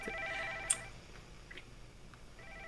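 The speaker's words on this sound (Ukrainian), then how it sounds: "цей телефон вже задовбав, він дзвонить і дзвонить, дзвонить і дзвонить" A telephone rings in a Fortnite co-op horror game, with a couple of electronic trilling bursts near the start, a sharp click, then a fainter return of the ring at the end over a quiet background.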